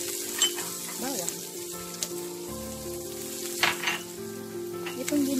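Garlic sizzling in a pan, a steady close frying hiss with light clinks of a utensil stirring, no talking.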